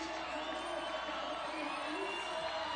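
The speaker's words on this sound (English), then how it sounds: "See the crowd going absolutely wild for her there." A big crowd at a street skateboarding world championship final in São Paulo roars and whoops wildly, a dense, sustained wall of cheering with shrill shouts throughout.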